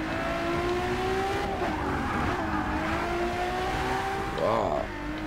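A Ferrari race car in Forza Motorsport 6 screams through a steady high engine note with rising and falling revs, tire squeal and a brief skid near the end, while someone talks over it.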